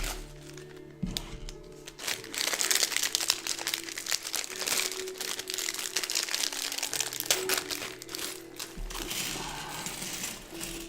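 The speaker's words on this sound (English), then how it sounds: "Sorry for the crinkling." LEGO packaging crinkles close up in bursts of crackly plastic rustling, with brief pauses and a few clicks of pieces in between.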